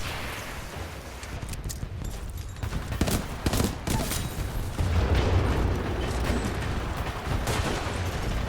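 Gunfire in the video game Titanfall 2 crackles through a dense, noisy mix of shots and mechanical clatter, with repeated sharp reports over a constant rumble of game action.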